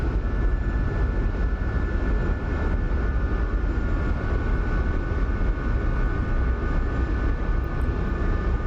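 A steady, droning SA-342 Gazelle helicopter engine and rotor noise in the game DCS hums loudly and continuously, with no voices over it.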